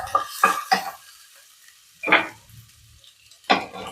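Ginger garlic paste and green chillies are sautéed in coconut oil, with a few short, sharp bursts of stirring and sizzle separated by near silence, close and fairly loud.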